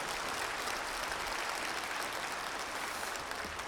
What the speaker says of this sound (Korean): 우리 큰 박수로 목사님 모시겠습니다